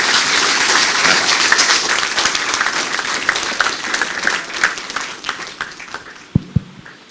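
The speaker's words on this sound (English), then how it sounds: "Once again, a big round of applause." An audience at a hospital infrastructure report launch breaks into loud applause that gradually thins to scattered claps, ending with a couple of sharp, close knocks.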